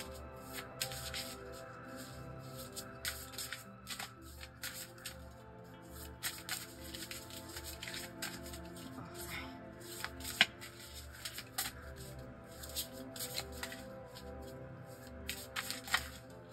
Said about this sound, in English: Now, next we are going to just shuffle this deck once more.